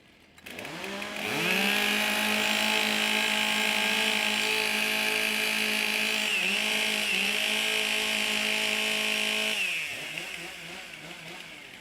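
Several Stihl chainsaws rev steadily at a timbersports stock saw competition, a loud sustained high-pitched engine whine that holds for about eight seconds, dips briefly, then winds down near the end.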